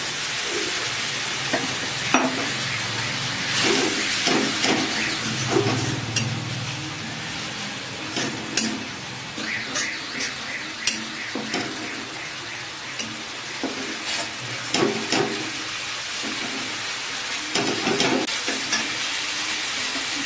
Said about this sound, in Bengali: মশলাগুলো কিছুটা ভাজা হয়ে এসেছে